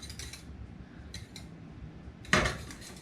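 Thick bread pudding is stirred in a pot, giving a few soft scraping bursts with short pauses, then one louder clank of the spoon against the pot near the end, close and without talk.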